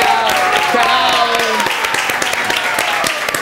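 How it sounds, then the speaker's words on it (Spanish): Studio audience on a TV quiz show applauding in a dense, steady burst of clapping, with a host's voice speaking over it. "Un aplauso para Claudia, que está detrás de la"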